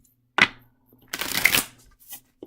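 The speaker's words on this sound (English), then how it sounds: "One more shuffle." Tarot cards are riffled and shuffled in a few short, crisp bursts, close by, with brief pauses between them and no talking.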